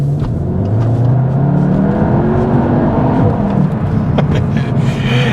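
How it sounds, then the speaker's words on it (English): Front-wheel-drive Cupra Leon 300 with a 2-litre turbocharged engine accelerating on autumn roads, a loud continuous engine drone rising steadily in pitch with no talk over it. "we know for a fact that it is a 2-litre turbocharged engine"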